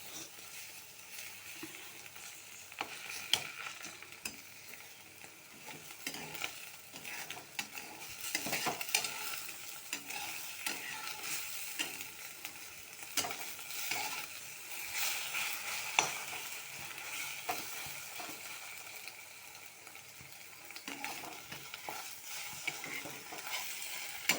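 Vegetable and egg mixture frying in a pan, stirred continuously, giving a steady soft sizzle with repeated scraping strokes of the spatula and no talk over it.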